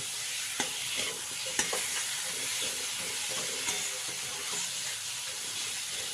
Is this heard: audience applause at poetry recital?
no